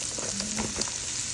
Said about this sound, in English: we're going to saute some onions and garlic in this